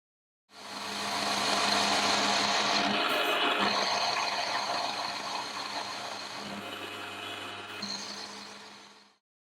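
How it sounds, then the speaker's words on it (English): Milling a cast iron base clamped in a vise with a 16mm end mill, a steady, loud machining whir with grinding cutter noise that runs evenly for about nine seconds, with no talk. "I'm just using a 16mm end mill, which is about 5/8, and I've simply clamped the part in the vise, and we're just going to mill down"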